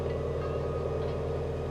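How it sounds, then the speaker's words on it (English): A car engine idles steadily after being started on a vehicle just repaired for air conditioning blowing hot, giving a low, even exhaust rumble held at a constant level without any talk. "Let's listen to that exhaust"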